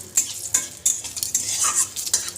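Dried red chillies, cumin seeds and bay leaf fry in hot oil as a tempering for mung dal, giving a bright crackling sizzle broken by several quick stirs and scrapes in the pan.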